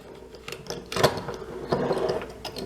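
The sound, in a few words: sliding action arm and bolt out of Remington 1100 shotgun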